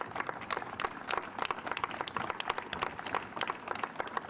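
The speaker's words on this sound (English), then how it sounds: "I would like to have a round of applause specifically for our employees." An audience at a corporate event for CenterPoint at One Vectren Square gives employees a round of applause, dense, fairly soft clapping from many hands, continuous and even throughout.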